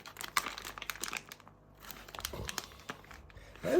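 Crinkly plastic packaging of a car survival kit rustles and crackles in bursts as it is torn open, with a short quiet pause partway through and a louder rip near the end.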